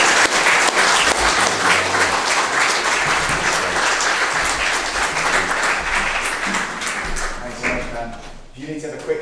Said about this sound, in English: Should we give Pam a round of applause?